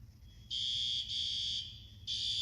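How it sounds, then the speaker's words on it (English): A shrill, high-pitched fire alarm under test sounds in repeated long beeps with brief gaps between them, fairly loud against a quiet background. "they're testing the fire alarms."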